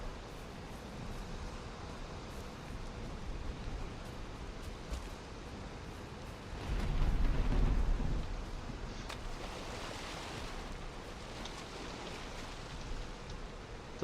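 Steady broadband hiss of rain in a video game, with a louder gusty swell around the middle, continuous noise and no talk.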